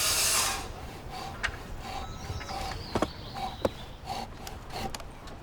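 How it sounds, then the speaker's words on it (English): A Japanese handsaw cuts through wood with a series of short, rasping strokes at a steady rhythm, close and moderately loud, set against a faint outdoor background. "My other favorite part about StickBuilt is getting to use the Japanese handsaw."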